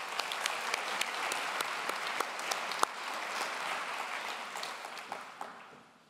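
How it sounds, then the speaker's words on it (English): A large audience applauds at a university graduation ceremony at Ravensbourne University London. Dense, steady clapping with a few sharper individual claps stands out before the applause fades away at the end. "So round of applause for them too."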